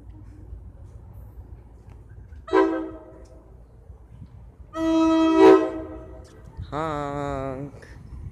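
A New Jersey Transit train horn blasts several times at Raritan, short then longer, over a low rumble of the fast passing train, with a brief voice in between.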